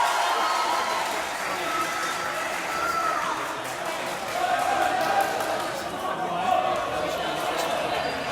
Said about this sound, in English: And the crowd is fired up.